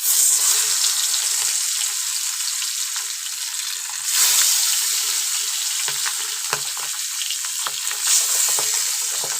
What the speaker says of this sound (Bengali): আরও আমি কিছুটা মাছটা ভেজে নেব।